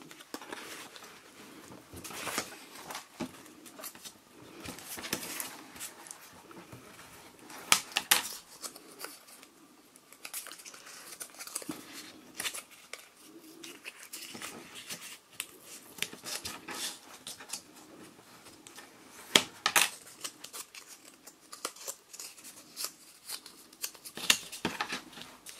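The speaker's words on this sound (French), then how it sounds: "Il ne reste plus qu'à plier." Paper being creased and folded by hand with a ruler while making a scrapbooking sticky-note holder, heard as close, soft crinkles, rustles and light taps scattered irregularly across the span with no speech.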